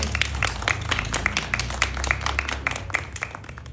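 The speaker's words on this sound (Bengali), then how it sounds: "একবার করতালি হয়ে যাক তার জন্য।" An audience at a book launch event claps together in a room, a dense, moderately close burst of applause with distinct individual claps that stays steady throughout and fades slightly at the end.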